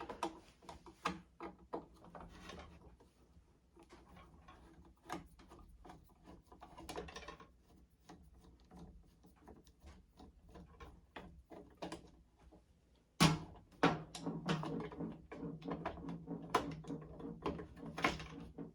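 Small metal screw being backed out of the front casing of a Brother VX710 sewing machine, with repeated close clicking and ratcheting taps from the screwdriver, quiet at first and louder handling toward the end, no talk.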